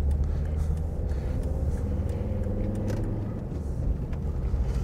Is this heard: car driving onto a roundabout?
yes